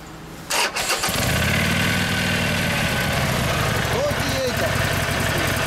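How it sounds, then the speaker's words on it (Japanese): A Harley-Davidson Sportster Forty-Eight XL1200X with stock mufflers cranks, fires up and settles into a loud, steady, rumbling idle close by, with people talking over the engine. "エンジン音聞かせてもらえますか。"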